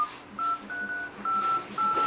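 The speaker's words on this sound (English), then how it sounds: "when you dial a phone call, there's like a little bit of a noise, a tapping, there's a sound" An Asus ZenFone 6 Android phone plays keypad dialing tones: a series of clear, evenly spaced beeps, each pressed digit sounding briefly and close by.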